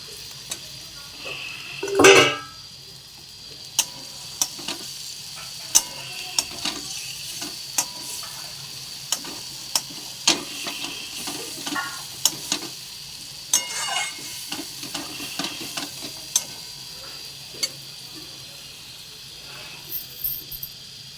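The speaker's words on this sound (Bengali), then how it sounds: "এরপর ভেজে রাখা আলুগুলো দিয়ে দেবো।" Fried potatoes stirred in a hot pan, a steady sizzle with regular sharp spatula scrapes and taps against the metal, one louder clatter early on, close and without speech.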